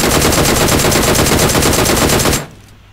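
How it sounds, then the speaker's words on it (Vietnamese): Automatic gunfire in the mobile battle royale game PUBG Mobile: a loud, continuous rapid burst of shots lasting over two seconds, close and dominant, then cutting off abruptly to near silence. "Ý ở trường học bắn nhau kìa."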